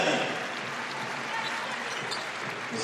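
Crowd applause at a professional basketball game between MSB and ASVEL, a steady broadband clapping wash under an announcer's voice, with faint sneaker and ball sounds.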